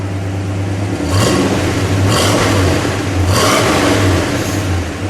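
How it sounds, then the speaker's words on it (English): 1960 Plymouth Fury convertible engine idling with a steady low rumble, then revved three times in a row, each rev a brief rising roar over the idle, close and loud. "Give it a good rev, Juan"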